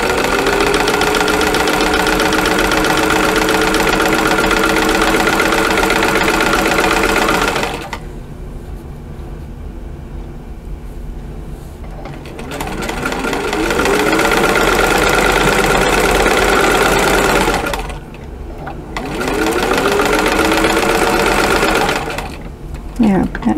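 Sewing machine fitted with a modern quarter-inch piecing foot stitching a quilt seam on bias-edged strawberry basket quilt pieces, running in steady mechanical bursts with pauses between, loud and close, while a person talks over it.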